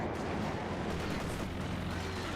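Gunfire on infantry in the World War II strategy game Company of Heroes 2: a dense, continuous rumble of distant shots and artillery-like booms, fairly faint and unbroken.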